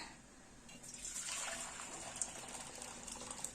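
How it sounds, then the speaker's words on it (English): Hot boiled water pours into an aluminium sufuria pot for making ugali, a soft, hissing gush that swells after a quiet start and keeps trickling steadily at low volume. "I'm going to go with my sufuria, my aluminium pot, and get my water in"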